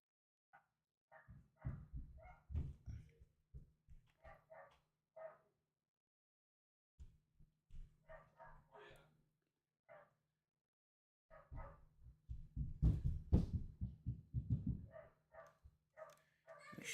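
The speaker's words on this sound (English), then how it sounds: "Shut that dog up." A dog barks in clusters of sharp, fairly faint yaps and yips in the background, with several quick bursts separated by pauses and a busier flurry toward the end.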